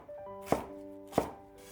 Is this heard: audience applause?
no